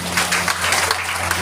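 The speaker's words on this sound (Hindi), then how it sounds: "जोरदार ताली बजाइए।" An audience at a motivational meeting claps loudly in a brief, dense burst of applause.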